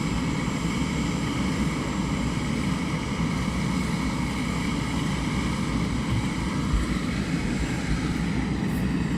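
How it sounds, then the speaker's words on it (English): An aircraft coming in at East Midlands Airport, a steady broad engine roar that holds for the whole stretch, strong in the low end, with no voices over it. "Next aircraft inbound"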